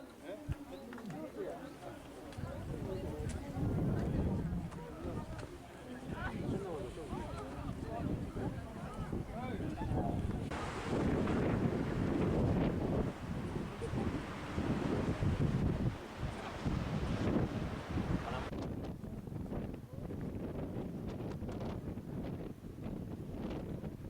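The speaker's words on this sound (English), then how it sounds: "So this place is actually really, really windy." Strong wind buffets the microphone in steady, roaring gusts that continue throughout, with a voice talking underneath, outdoors in Jeju in spring.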